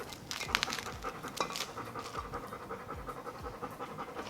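A rescue puppy pants hard after playing outside, close and rapid, with a steady rhythm of quick breaths and some faint scratching and pattering nearby.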